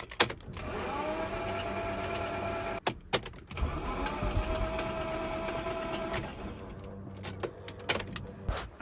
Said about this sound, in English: The car doesn't seem to want to start.